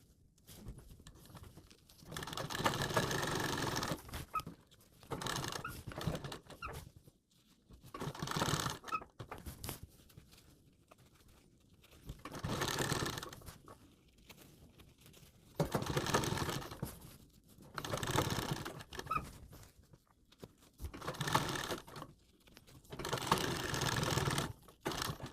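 A sewing machine runs in repeated bursts of a few seconds each, broken by short pauses, as it stitches along the edge of a coat collar neck. The stitching sounds close and steady, with no talking.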